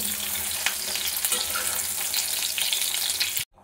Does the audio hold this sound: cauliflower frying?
yes